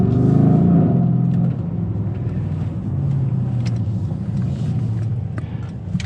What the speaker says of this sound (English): You can hear it rev match there